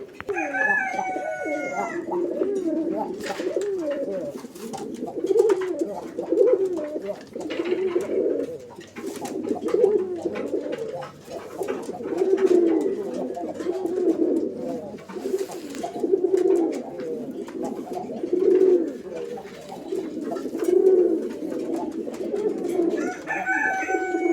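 Pigeons of the Raj-golla and Madrazi-golla type coo repeatedly nearby, low throaty calls rolling on for over twenty seconds with a few higher crowing-like notes at the start and end.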